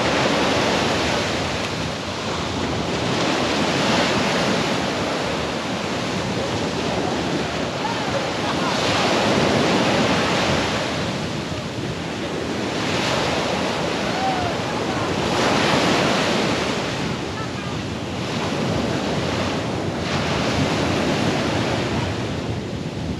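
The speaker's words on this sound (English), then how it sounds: "here we are still at the beach" Ocean surf rolls in at a Florida beach in North Port, with broad washes of waves rising and falling every few seconds under gusting wind noise on the microphone.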